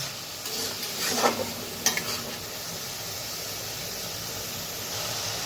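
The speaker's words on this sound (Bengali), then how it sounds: "পেঁয়াজের পেস্টটা দিয়ে ভালোভাবে নেড়ে নেব।" Onion paste being stirred and fried in a pan, giving a steady frying hiss with a few scraping stirs and spoon clinks near the start, close and continuous.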